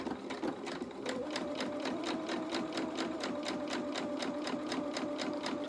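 A sewing machine runs steadily close by, its needle beating in a fast, even rhythm with a faint motor whine while understitching a seam on fabric.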